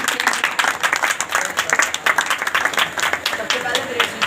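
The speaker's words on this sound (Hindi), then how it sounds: "जोरदार तालियां बजाइए खुदा के लिए" A church congregation claps loudly during a worship service, dense, energetic applause with rhythmic clapping, while voices speak over it.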